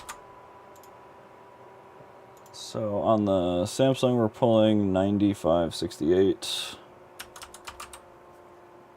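Quick, close clicking of a computer keyboard, tapped in short irregular bursts that run under a voice and carry on alone once he stops talking.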